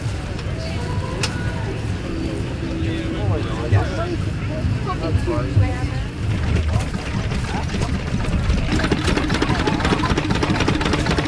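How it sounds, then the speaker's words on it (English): A very early 1916 vintage stationary engine runs at a ploughing match with a steady low chugging beat, nearby and continuous, while people talk over it. "it's a very early engine"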